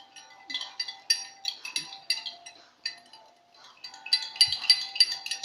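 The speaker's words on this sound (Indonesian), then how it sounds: "Kita aduk sampai rata." A spoon stirs a lime and soy sauce cough remedy in a glass, producing quick clinking taps against the glass in two bursts with a short pause between, close and fairly clear.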